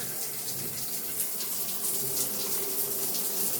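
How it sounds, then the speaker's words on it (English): Tap water runs steadily through a water softener filter into an apartment bathtub in France, a soft continuous hiss and splash heard alone at low level throughout. "And now we have soft water coming out of our soft water filter."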